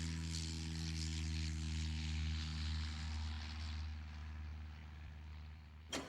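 A Junkers propeller airplane drones steadily overhead with a continuous, fairly loud engine hum throughout, fading slightly near the end.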